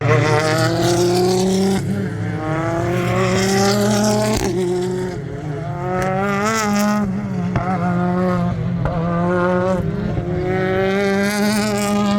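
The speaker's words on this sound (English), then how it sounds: "Now Will Martin's car is on the move." A BTCC touring race car on the Knockhill circuit during the 2024 meeting, its engine loud and close, revving hard with rising and falling gear pitches and a brief dip before climbing again.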